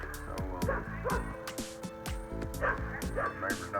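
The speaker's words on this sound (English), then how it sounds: "neighbor's dog getting after somebody, ain't it?" A neighbour's dog barks and yips repeatedly in quick uneven bursts, fairly near and moderately loud, with no talk over it.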